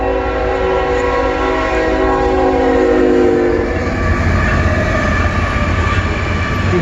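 CN eastbound mixed freight train with double-stack cars, its horn blaring loud and close with sustained chord tones, then fading into the heavy rumble of passing rail cars.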